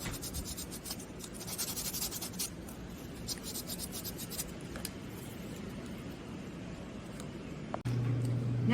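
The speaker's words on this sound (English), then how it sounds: "I'm going to sand the edges to try to make it look like one piece without gluing it here" Sandpaper rubs steadily against the edges of a small handmade wooden miniature loft ladder, a close, continuous scratchy rasp with short strokes, ending in a sudden low rumble.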